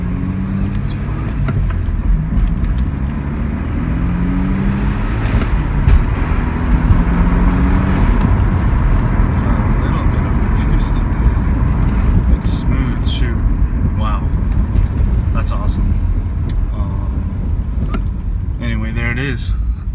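A Mazda RX-7 FD driving on the road, a loud continuous engine drone with road and wind roar that rises and falls through gear changes, while someone talks over it.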